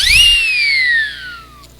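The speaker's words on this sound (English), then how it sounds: "remember siren whistles" A siren whistle rises in a quick shrill sweep, then slowly glides downward for over a second before cutting off, loud and alone.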